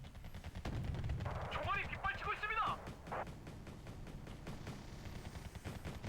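A helicopter chain gun fires in Wargame: Red Dragon, bursts of rapid gunfire and battle noise rumbling under a man's steady speech, with layered shots through the first few seconds.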